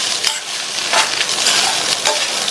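Poha and potato being stirred together in a pan on a stovetop, a steady soft sizzle with scraping strokes of a spoon recurring every half second or so, close and fairly loud, with no talking.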